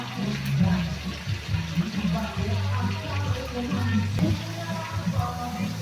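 Water pours into a pot of Filipino chicken stew with tomato paste, a steady close splashing that runs for several seconds.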